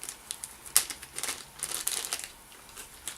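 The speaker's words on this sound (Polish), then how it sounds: "Przygotujcie sobie gdzieś papier, kawałek papieru, jakiegoś ręcznika papierowego do wycierania rąk." A sheet of paper towel being crumpled by hand while tying a mayfly extended-body fly, giving quiet, close crinkling bursts in an irregular run with no talk.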